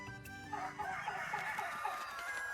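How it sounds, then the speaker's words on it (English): Chickens from the video game Little Goody Two Shoes, clucking and crowing in a busy fowl chorus that stays steady and fairly faint throughout, with no talk over it. "Careful with the hens now, you hear?"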